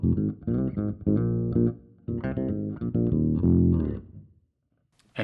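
Electric bass played through a Fractal FM3 with an octave effect engaged gives a thick, doubled low tone in a run of short, punchy notes and phrases, close and alone, ending in a brief silence.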